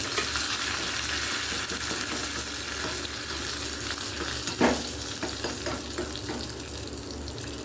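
Cashews, curry leaves and chili fry in a pan while a barnyard millet pongal is being made, giving a steady close sizzle with stirring scrapes and one louder clatter midway, and no talking.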